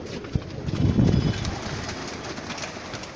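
Low, throaty pigeon cooing rises briefly amid a steady background hum and scattered light knocks, the birds sounding close but muffled.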